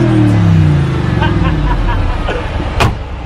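Mercedes G63 Brabus with a 5.5 litre biturbo V8 pulls away with a loud deep rumble that fades as it moves off, a few sharp pops following, and someone speaks briefly over it.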